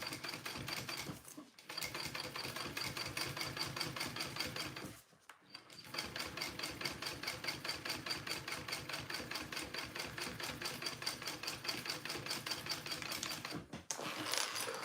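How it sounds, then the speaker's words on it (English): A sewing machine runs rows of top stitching in fast, even rhythmic bursts, with two brief pauses between runs and a short stop near the end, close by and alone. "I'm gonna do another row of stitching here"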